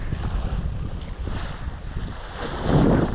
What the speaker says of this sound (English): Wind's coming straight in that way.